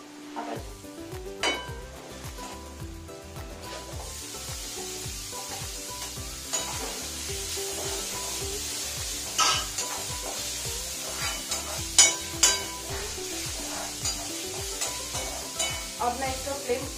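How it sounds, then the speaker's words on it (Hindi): Onion and tomato sauté in a pan for bhaji, giving a continuous sizzle with a repeated rhythmic scraping of a spoon stirring and occasional clinks against the pan, heard close with no talk. "अब इसमें टमाटर डाल के थोड़ा पकाएंगे"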